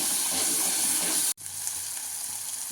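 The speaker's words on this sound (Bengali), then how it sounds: "মশলাটা একটু ভাজা ভাজা করে নিই" Spice paste with salt and turmeric frying hard in hot oil in a pan for a carp (katla) curry, a loud steady sizzle that cuts out for an instant midway and then resumes.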